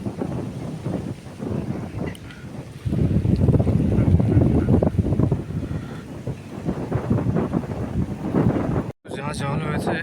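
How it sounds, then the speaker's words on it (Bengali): Strong wind blasts across flooded fields and roads, a loud, gusty roar buffeting the microphone almost continuously, with a brief cut near the end. "আর এত জোর হাওয়া দিচ্ছে"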